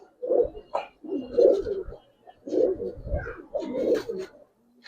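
Giribaz pigeons, a Bengali pigeon breed, coo nearby in four loud, throaty bursts separated by short pauses, with faint chirps around them and no talking.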